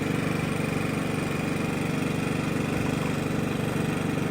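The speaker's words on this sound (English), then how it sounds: "here I am directly behind the Genmax. I got the muffler aimed at me, obviously, so back here it's going to be a little louder" A Genmax 7500 dual-fuel inverter generator running outdoors, heard from directly behind its muffler: a loud, close, steady engine drone with a fast even pulsing exhaust throb and no pauses.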